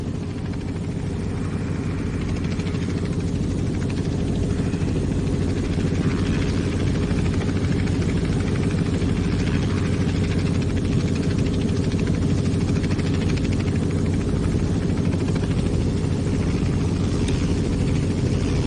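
Steady, loud drone of a Robinson R44 helicopter's piston engine and rotors in the X-Plane 11 flight simulator, an unbroken low rumble with a constant whirring hum and no voices.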